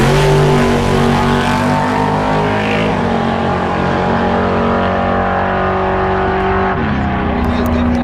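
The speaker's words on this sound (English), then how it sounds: "Dean Smith and his Pro Camaro making a test pass" A Pro Camaro drag car roars loudly down the track on a test pass at a no-prep shootout, its engine a dense, steady blare with a pitch shift near the end as it passes.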